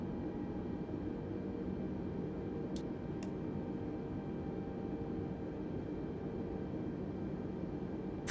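An airplane engine drones steadily in a flight video game while the plane sits on a runway, a constant broadband roar with a couple of faint clicks.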